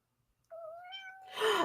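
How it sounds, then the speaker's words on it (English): A house cat gives one drawn-out, rising-and-falling meow, close and clear in a quiet room, before a brief louder rustle at the end. "Kitty Princess is awake, everybody"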